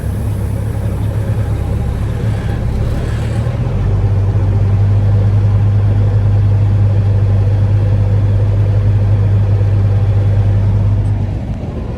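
A truck hauling corn idles steadily nearby, a low constant engine drone with a slight shift in pitch partway through, running alone for about twelve seconds.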